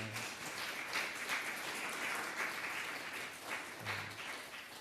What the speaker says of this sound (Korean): 우리 박수로 옆에 있는 분들을 환영했으면 좋겠습니다.